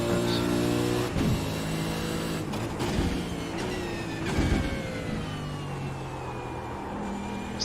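A race car engine in a Supercars racing video game at Detroit, with a sustained loud engine tone that shifts pitch, plus a few sharp thumps and bursts of noise as it runs continuously without voices.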